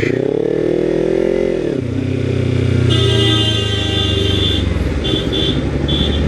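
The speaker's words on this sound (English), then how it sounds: "Why is he honking?" In city traffic, a bus horn sounds in several short, loud, bright honks over the close hum and revving of road engines, with no talking.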